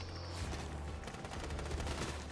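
Dense, continuous gunfire in the Fortnite video game, a rapid rattling stream of shots over a low rumbling background, loud and sustained throughout with no talking.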